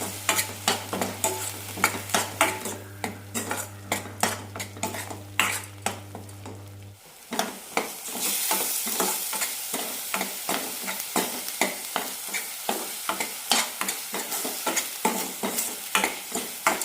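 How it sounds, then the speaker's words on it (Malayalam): Soya keema masala with onion and coconut sautéing in oil, spoon scraping and stirring in rhythmic clatters over a constant sizzle, close up, with a low hum that stops partway through. "മസാലയുടെ പച്ചമണം പോകുന്നതുവരെ വഴറ്റാം"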